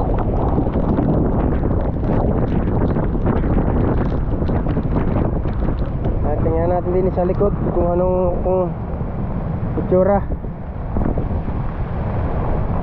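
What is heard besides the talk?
strong wind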